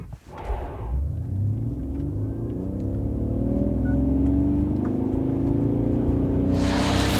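Quad-motor electric Mercedes G580 accelerating hard from 0 to 100 km/h, a deep droning rumble with rising synthetic tones that climb steadily in pitch, loud and close, and a rush of wind noise at the end.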